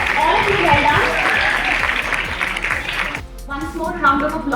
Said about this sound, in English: I think we should give a round of applause to the participants